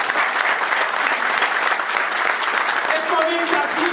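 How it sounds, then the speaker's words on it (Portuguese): A crowd at a political party convention in Bento Gonçalves breaks into sustained applause, dense and even throughout, with a voice briefly surfacing near the end. "Uma salva de palmas a todos eles."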